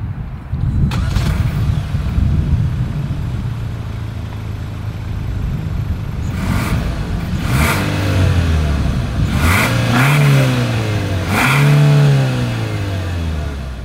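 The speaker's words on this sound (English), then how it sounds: "As always, here is that exhaust clip." The exhaust of a 2024 Hyundai Santa Fe drones at idle, then rises in several loud revs that swell and fall back, heard close and alone with no talking.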